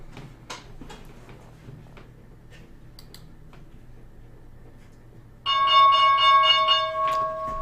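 A stock market opening bell on March 17, 2023 rings out loud and steady for about two seconds after a stretch of faint ticks and clicks, with no talking.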